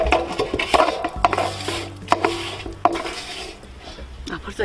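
Onion pickle ingredients mixed in a bowl for a salted yellow croaker jeotgal, with utensil clinks and stirring scrapes in a busy, close clatter lasting a few seconds.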